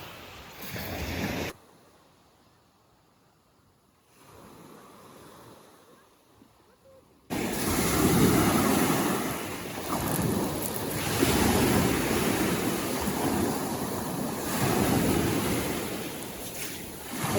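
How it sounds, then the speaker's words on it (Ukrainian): Sea surf rolls in on a crowded public beach near Chornomorsk on the Black Sea, a broad hissing wash masked by heavy wind buffeting at the microphone, with a quieter lull partway through. "Таке сьогодні в нас чудове моречко."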